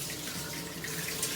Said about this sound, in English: Too much water, you make me put more.